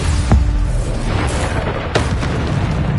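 Bombarda blast spell going off in Hogwarts Legacy, a dense booming explosion with a sharp burst near the start and another around two seconds, filling the whole clip with loud rumbling.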